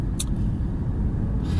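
Porsche on a race track during a track day sighting lap, a steady loud low rumble of engine and road noise from inside the car, brief and continuous, with no talk.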